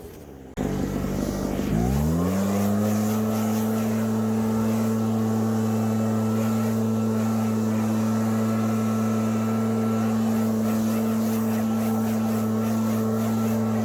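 A Husqvarna leaf blower starts with a brief rough sputter, then settles into a loud, steady droning engine roar that holds constant for the rest of the time while clearing leaves in a yard, close by with no talk.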